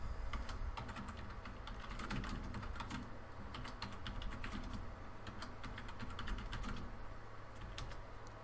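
Computer keyboard keys clatter in a steady, quick stream of close, distinct clicks for several seconds, with no voices over them.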